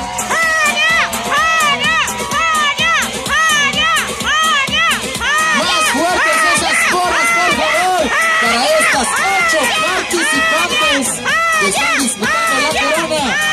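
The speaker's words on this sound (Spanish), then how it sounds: "¡Venga el aplauso para las 8!" An audience at the Mini Miss Pabellón 2016 children's pageant cheers and shouts loudly and continuously for the eight contestants, a dense chorus of excited voices with steady clapping.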